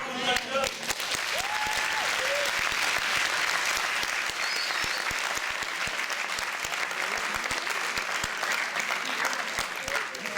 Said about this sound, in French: on peut donner un applaudissement pour nos acteurs